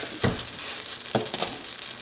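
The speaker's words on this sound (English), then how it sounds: "We go ahead and lace it with some margarine" Margarine melting in a hot pot for fried rice gives a faint, steady sizzle, with two brief louder scrapes or stirs partway through. No voices.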